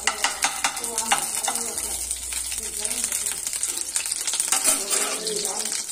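Homemade ghee sizzles in a wok, heating for carrot halwa, with a steady frying hiss and a few soft stirring scrapes and clinks; no talk.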